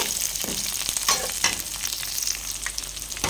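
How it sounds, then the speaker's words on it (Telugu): Washed drumsticks (moringa pods) tumble into hot oil with cooked onions and get stirred, a close, steady frying sizzle with sharp clatters and scrapes as the pieces are tossed, no talking. "ముందుగా వాష్ చేసి పెట్టుకున్న మునక్కాయలను అయితే అన్నిటినీ అలా వేసి నూనెలో ఒకసారి అలా కలిపేయాలి"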